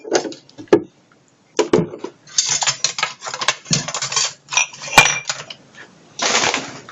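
Dishes being washed: sharp clinks and clatters of plates and cutlery knocking together in bursts, with rushing water sounds in between and a brief quiet gap, close and irregular, with no talking.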